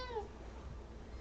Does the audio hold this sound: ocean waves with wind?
no